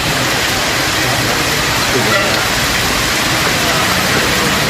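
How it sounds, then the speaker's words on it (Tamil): Heavy rain pours steadily in the Cheyyar area of Tiruvannamalai district, a dense, loud and unbroken hiss of downpour filling the whole stretch. "ஒரு மணி நேரத்திற்கு மேலாக கனமழை கொட்டியது"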